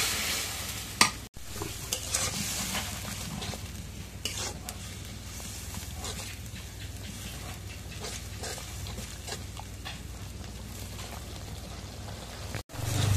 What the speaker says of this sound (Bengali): মশলাটা এখন কষানি হচ্ছে